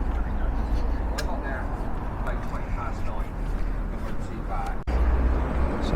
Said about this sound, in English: Just get away from the noise of the traffic a little bit coming along here.